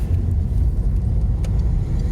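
Steady road traffic rumbles past on a road between Cumbernauld and South Alloa in Scotland, a continuous low engine drone of passing cars and buses, fairly close and unbroken, with no talk.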